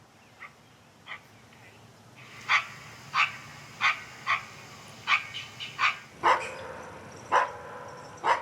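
Coyotes bark and yip at night near a lake, a series of sharp calls about every half second to second, moderately distant, over a low background hum.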